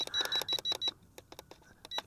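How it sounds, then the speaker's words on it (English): Electronic beeps from a JXD 510G Predator drone transmitter as its trim tabs are bumped toward center: a rapid run of short, evenly spaced high chirps, then scattered single beeps, fairly quiet and close, with no talking. "keep bumping them until you hear a long beep"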